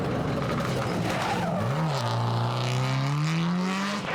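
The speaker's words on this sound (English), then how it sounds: "It's Gerald Donovan and Derek Tobin in their Subaru Impreza R4." A Subaru Impreza R4 rally car drives past on a tarmac rally stage in West Cork, its engine note rising loud and close with a falling pitch sweep as it passes, then fading, with no talk over it.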